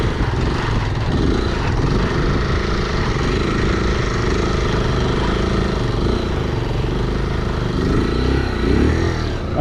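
A Kawasaki Z125 motorcycle engine drones steadily and loudly through circle wheelies, holding a sustained revving roar close by with slight swells in pitch and throttle.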